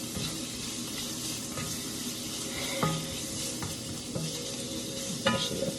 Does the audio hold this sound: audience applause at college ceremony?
no